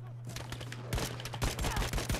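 Rapid gunfire in Battlefield 5, a dense burst of close, sharp shots rattling in quick succession that grows louder partway through over a steady low hum.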